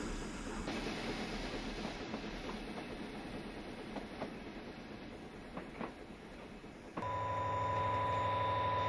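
A narrow-gauge Mann Co 060 locomotive rumbles past in an animation, pulling a short passenger train with rhythmic clickety-clack and a soft hiss that swells louder near the end.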